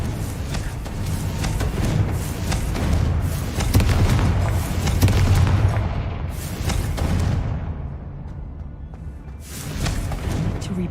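Booming fiery blasts from the Confringo spell in Hogwarts Legacy, heavy low rumbles with whooshing bursts that swell and fade in several waves, loud and alone without talk.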